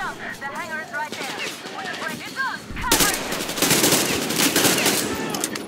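Rapid bursts of gunfire from the video game Metro Exodus erupt loud and dense partway through, after a stretch of quieter in-game sound.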